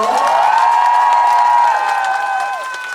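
A trot concert crowd gives a long, high collective cheer over scattered clapping, the shouted tone holding steady before dipping and fading near the end.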